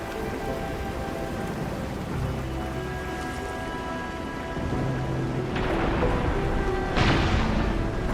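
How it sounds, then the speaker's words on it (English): Heavy rain pours steadily in a video game, a dense continuous hiss that swells louder toward the end, with a low rumble and brief thunder-like bursts near the close and no talking. "It's raining harder. I can't hear anything except for the rain."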